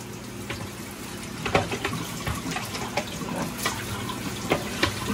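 Hot water running from a kitchen tap into a sink, a steady moderate splashing stream with irregular louder splatters and clinks, close by, continuing without talk.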